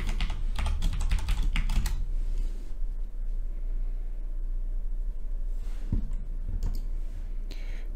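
Someone types a password on a computer keyboard, producing rapid, close clicking keystrokes in bursts, then a pause and a few more taps near the end.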